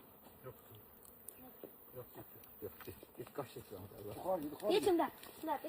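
A bee buzzes close around a person's head outdoors while they eat wild forest honey, a faint intermittent hum under nearby chatter that grows louder toward the end.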